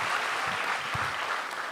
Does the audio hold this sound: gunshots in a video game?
no